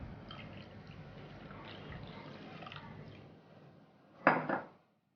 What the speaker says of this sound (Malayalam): ഫുൾ ക്രീം മിൽക്ക് അത് നമുക്ക് ഒഴിച്ചു കൊടുക്കാം.